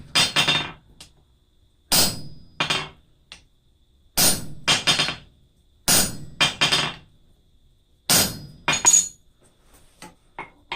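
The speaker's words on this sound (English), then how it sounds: "You want to make sure you're still driving down into that lower block while you're using your top rivet set." A hammer strikes a top rivet set on homemade forged rivets in sharp metallic bursts, in clusters of two or three ringing blows separated by short pauses.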